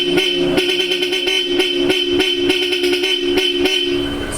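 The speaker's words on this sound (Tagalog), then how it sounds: "nag-avail si sir ng Bosch Europa horn" Loud, close blasts from a Bosch Europa car horn during a sound check, sounded in a rapid series of short, evenly spaced toots with a bright, piercing tone.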